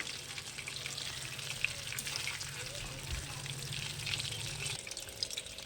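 Chicken pieces deep fry in oil over medium-low heat, producing a constant bubbling sizzle close by, with a low steady hum underneath for most of the time.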